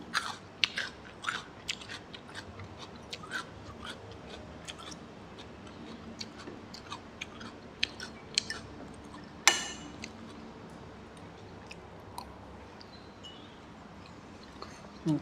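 Someone eats a sausage omelette with cucumber and hot rice, with close crisp crunchy bites and wet chewing clicks repeating irregularly throughout, one sharper crunch standing out midway.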